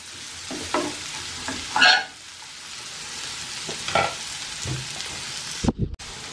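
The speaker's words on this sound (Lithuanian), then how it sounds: "Apkepam svogūnus." Onions frying in a pan with a steady sizzle, broken by a few scraping stirs of a utensil, close and moderately loud, with no one speaking.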